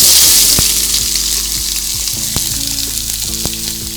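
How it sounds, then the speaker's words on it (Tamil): Sliced small shallot-type onions sizzle steadily as they sauté in hot oil for a prawn fry, a loud continuous crackle with occasional spatula scrapes and knocks against the pan. "எண்ணெயில் கொஞ்சம் வதங்கின உடனே நம்ம ஸ்லைஸ்டாக கட் பண்ணி வச்சுருக்கிற சின்ன வெங்காயத்தை வந்து"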